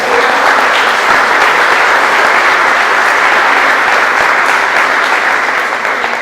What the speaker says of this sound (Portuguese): Dá um salve de palmas para Jesus que Ele merece